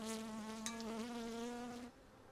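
Honey bees being removed from a chimney give an agitated, droning buzz that is loud and close, holding a steady pitch for about two seconds before it drops away suddenly.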